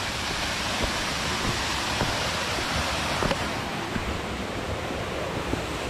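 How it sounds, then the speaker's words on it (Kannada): Soormane waterfall near Kalasa pours in a continuous broadband rush of falling water, steady and enveloping with no other sounds standing out. "ಜಲಪಾತ."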